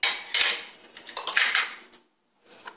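Spoon clinking and scraping against a bowl while dhokla batter is stirred with a pinch of turmeric, a series of close, bright metallic strokes in bursts, then a brief pause before more stirring.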